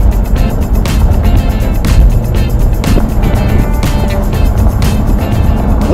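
A 2015 Chevrolet Corvette Stingray driving through a national park, with a loud steady engine and road rumble heard from close by and no talk over it.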